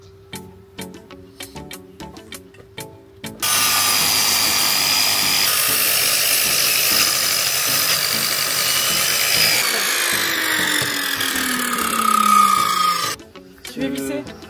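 A power screwdriver drives screws into wood while a canopy bed frame is assembled, a steady whirring run of about ten seconds between short bursts, with people talking around it.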